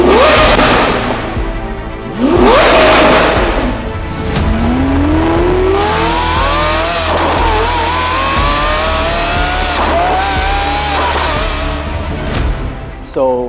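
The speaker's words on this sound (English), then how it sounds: "we just heard the exhaust. Sounds outstanding, extremely loud." A Lamborghini Aventador SVJ fitted with a 1016 Industries performance exhaust revs several times, each sharp rising howl close and very loud, with brief crackles between the blips.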